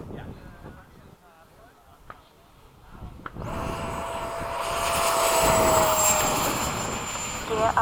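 A Freewing 80mm F-5 RC model jet rises from a quiet start into a loud, sustained whine and roar as it flies past in a crosswind at a fun-fly field, with people talking nearby.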